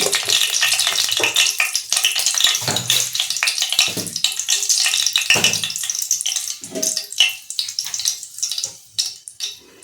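Fenugreek seeds fry in hot oil in a wok for a sea fish curry, a loud bright hiss and crackle that surges then gradually thins and fades toward the end.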